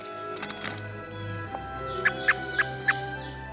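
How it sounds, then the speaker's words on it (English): Rehabilitated birds being released into the wild call outdoors: a few scattered low calls, then four sharp, evenly spaced squawks close by against quiet background noise. "We are releasing some awesome birds that have fully recovered."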